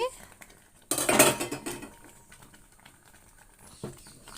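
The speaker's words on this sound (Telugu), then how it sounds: "ఒకసారి మూత వేసుకుందామండి" A lid is set onto a pan of rava kesari cooking over a medium flame, making a short clattering metal burst followed by faint handling clinks, close by and alone.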